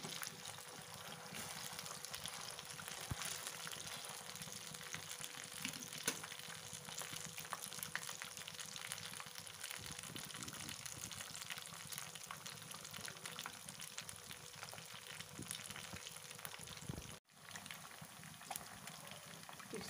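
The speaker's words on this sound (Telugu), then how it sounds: "సరే, వెంటనే ఫ్రై అయిపోతుంది." Fish frying in a pan, a steady dense crackle and bubbling sizzle held at an even level throughout, close and unbroken apart from one brief dip.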